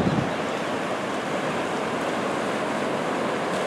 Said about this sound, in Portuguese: está muito forte a correnteza aqui